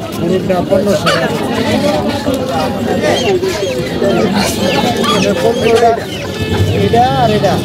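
Chickens cluck and chatter throughout a busy Tongi poultry market, a dense continuous din of fowl mixed with people bargaining nearby.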